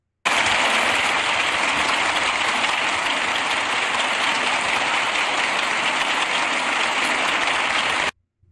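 Deputies in a parliament chamber applaud, with a dense, even wash of clapping from many hands held at constant loudness for about eight seconds before cutting off abruptly.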